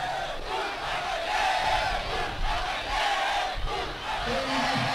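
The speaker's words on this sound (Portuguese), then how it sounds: "A torcida começa a gritar o nome dele" A football crowd at a penalty-shootout semifinal chants a player's name, a loud, massed roar of voices rising and falling in rhythmic surges heard from within the stands.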